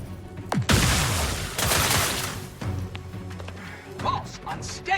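Grenade explosion in The Outer Worlds 2 video game, a sharp blast with a booming roar that rumbles on for about two seconds, followed by scattered gunfire and impacts, with in-game voices over it.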